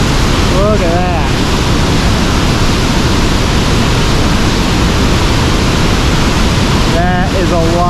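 Montmorency Falls near Quebec City roars as a loud, steady wall of rushing water that fills the whole stretch, with brief voices rising over it near the start and again near the end.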